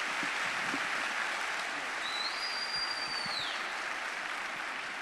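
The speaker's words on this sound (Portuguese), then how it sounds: "Aplaudir." A church congregation applauds, a steady, dense wash of clapping that continues evenly throughout, with a thin high whistle-like tone briefly over it in the middle.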